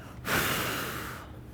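A single heavy breath, loud and close, is drawn in during a bootcamp bodyweight workout. It is a sharp gasping rush lasting about a second, then fades to quiet.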